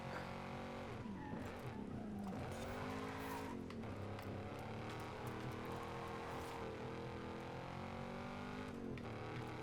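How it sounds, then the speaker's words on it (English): Car drifting in the Forza Horizon 5 racing game, with a constant engine roar and long wavering tire squeals that rise and fall over about ten seconds, loud and continuous. "That was awesome drifting"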